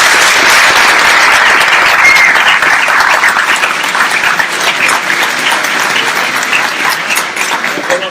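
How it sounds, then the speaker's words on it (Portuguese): Loud, sustained applause from a lecture audience at the Centro Brasileiro de Pesquisas Físicas in Rio de Janeiro, dense clapping that fills the room and slowly thins toward the end. "Nós possamos mais uma vez dar uma salva de palmas aos nossos palestrantes"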